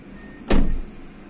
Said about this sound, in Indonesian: Pintu tutup.